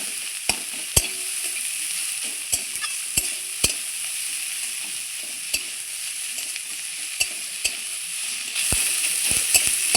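A generous batch of onions softens in hot oil for a Rajasthani-style onion kachori filling. A constant close sizzle is punctuated by sharp, irregular taps of a spatula against the pan.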